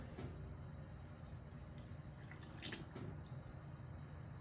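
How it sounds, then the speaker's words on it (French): Lukewarm tap water trickles and drips into a jar over preserved lemons in a home kitchen, a faint, steady close pour with brief splashy peaks partway through. "je vais couvrir d'eau."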